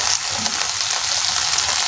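Green beans hitting a hot frying pan set off a loud, steady close sizzle and hiss of frying, constant throughout with no talking.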